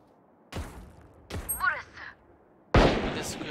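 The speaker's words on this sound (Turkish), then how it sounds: "Klasikle vurdum." Sharp pistol shots from a Classic sidearm in the tactical shooter Valorant crack out in three separate bursts, with short quiet gaps between them.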